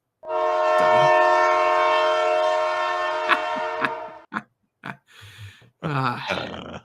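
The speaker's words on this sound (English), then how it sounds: "I thought that train would never come. I think I hear it in the distance." A train horn blows a long sustained chord, then several short blasts follow, with the rumble of the train underneath.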